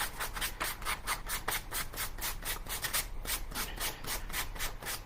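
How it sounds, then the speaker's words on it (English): Steady rhythmic rasping of a sanding block scraping back and forth along a paper edge, quick regular strokes, close and fairly loud, with no voices. "I'm going to take a sanding block."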